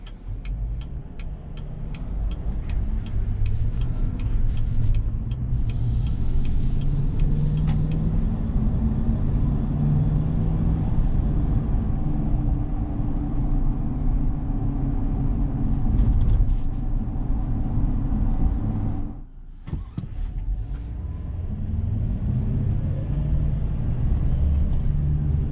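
Interior view from a moving 2021 Chevy Silverado pickup truck: a continuous low road and engine rumble with faint ticking, steady throughout, dipping briefly near the end before resuming, no talk.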